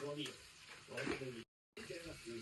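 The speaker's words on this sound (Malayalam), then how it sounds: "നമ്മുടെ എണ്ണ ഇവിടെ ചൂടായിട്ടുണ്ട്. അപ്പൊ നമ്മൾ കുറച്ച് സാദാ ജീരകം ഇട്ട് കൊടുക്കാം" Whole spices, including cumin and fennel seeds, sizzling in hot oil in a pan for a restaurant-style mushroom masala. A bright frying hiss runs beneath a person talking, with a short silent gap before the sizzle and talk resume.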